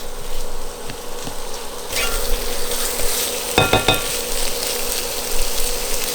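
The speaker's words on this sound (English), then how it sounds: "So we're gonna let this cook down just a little bit more." Pork belly tofu soup base cooking down in a pot gives a steady sizzling, bubbling wash, with a few sharp clanks of a utensil against the pot, no talking.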